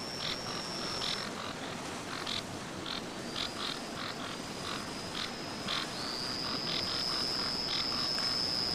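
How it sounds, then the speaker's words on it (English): Frogs croak together in a forest in a dense chorus of repeated high chirping calls on different notes, layered over a constant background hiss. "Much of the prevailing noise in the forest came from the humble frog, and when several were together, they sang in harmony on different notes."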